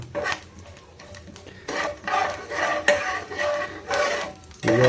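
A spoon scrapes and stirs mustard seeds frying in a pan, giving repeated rough rasping strokes over a soft sizzle, steady and close with no talk.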